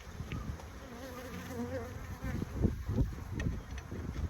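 Honey bees buzz steadily close by in an open hive, a dense droning hum with individual bees whining past, low and continuous throughout.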